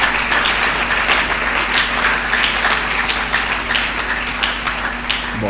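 Church congregation applauding and cheering at a French-language service, steady dense clapping that fills the whole stretch with a faint low hum beneath.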